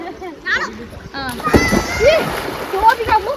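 A voice and chatter over a splashy burst of water, as if someone drops into a pool nearby, with sloshing afterward.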